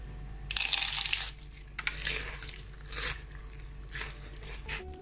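Crisp, crunchy bites into a fried chicken spring roll, several loud crackling crunches close up with chewing between them, no talk.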